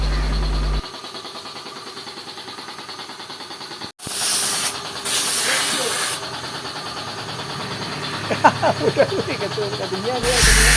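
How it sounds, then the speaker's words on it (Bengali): Compressed air blasts in bursts to blow pooled water off a car body during prep before painting after an accident repair, a loud hissing rush under ongoing workshop noise, with a voice talking. "এখানে এয়ার প্রেশার দিয়ে যত জল জমা পড়েছিল সেই জলগুলোকে বের করে দেওয়া হচ্ছে"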